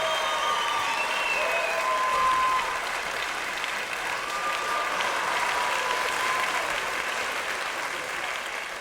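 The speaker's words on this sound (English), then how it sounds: "give Unknown Ace a round of applause" Steady audience applause from a crowd at the close of an interview episode, sustained clapping filling the space for several seconds with faint background voices underneath.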